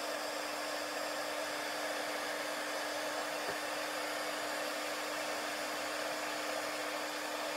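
A heat tool blows steadily on embossing powder for papercraft stamping, a continuous close airy whir with an even level throughout and no talking.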